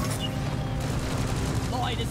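Rapid automatic gunfire in the co-op game Deep Rock Galactic rattles on continuously at moderate loudness, mixed with game sounds and a faint voice.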